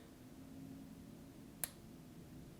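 A 14K solid gold Cuban link chain, 8 mm wide, gives one sharp, tiny click as its clasp locks shut, over quiet room tone.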